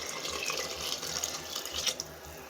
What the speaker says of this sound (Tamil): நமக்கு தேவையான அளவு தண்ணி விட்டுக்கலாம்.